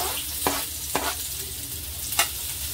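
Garlic frying in a pan for veg momos, a soft steady sizzle broken by three quick, sharp scraping strokes of stirring, fairly quiet and close, with no voices.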